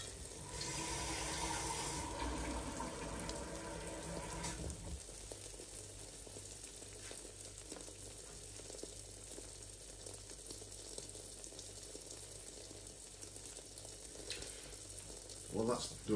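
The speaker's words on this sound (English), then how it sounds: "Let the bottom of the omelette cook before you put in any cheese" An omelette fries in a pan with a loud, hissing sizzle for the first few seconds, then settles into a faint, steady background hiss and hum.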